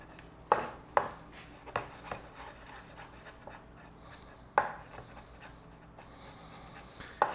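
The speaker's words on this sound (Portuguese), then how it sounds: "Ainda com a mão molhada, eu vou picar esse alho." A knife chops garlic on a cutting board into a coarse, rustic mince, giving sharp irregular knocks with softer taps between them, close and clear.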